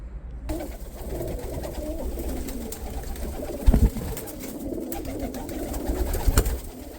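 Pigeons coo inside a loft in winter, soft throaty calls repeating under a steady background hum, with a couple of sharper fluttering bumps close by and no talking.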